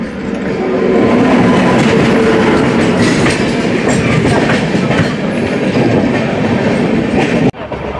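A train rolls past Ranchi Junction outer, heard from inside a moving general coach, with a loud continuous rumble and clatter of wheels that drops abruptly near the end.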